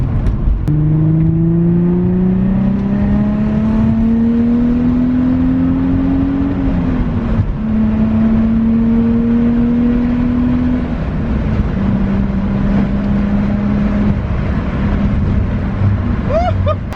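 An Infiniti G35 fitted with a Motordyne plenum spacer and MREV 2 revs up through several gears on a highway pull, pitch climbing and dropping at each shift, loud and sustained amid road and wind noise.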